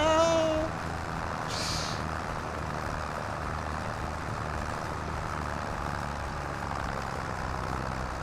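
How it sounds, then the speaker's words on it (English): A farm tractor engine in Farming Simulator 25 drones steadily at low speed through a slow field pass, a constant low rumble with a brief higher tone early on, no talking. "But you know he's just chilling out in his tractor,"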